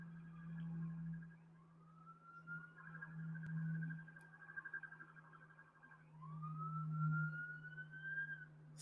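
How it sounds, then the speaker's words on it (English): Emergency vehicle siren wailing in the distance, a steady rising and falling tone that sweeps up twice over a constant low hum, with no voices. "Sirens."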